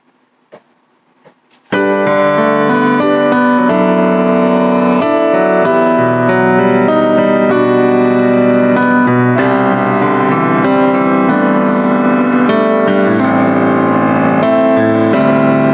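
Bösendorfer sampled virtual piano playing a recorded passage: after a near-silent start, full chords and a melody ring out steadily and loudly, dense and resonant, with no speaking.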